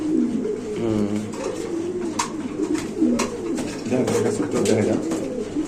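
Red Mundian pigeons coo steadily and close by, their low rolling calls filling the whole stretch alongside faint background voices.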